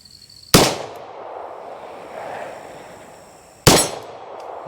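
Two sharp, loud pistol shots from an IMI Jericho 941F fired at an outdoor range, about three seconds apart, each with a crack and a ringing decay.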